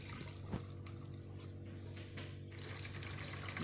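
Zobo drink pouring through a sieve into a bowl, a soft continuous trickle and splash of liquid, quiet and steady with no talking.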